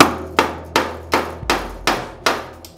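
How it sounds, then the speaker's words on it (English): A big hammer strikes a chisel to knock the head off a rivet on a jon boat being restored, six sharp, loud metallic blows at a steady pace, each ringing briefly. "you're going to take your big hammer and you're going to just knock off the top"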